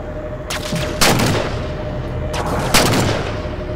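Gunfire in the video game Halo 4, two heavy booming bursts of shots over a constant loud rumbling combat background, close and forceful.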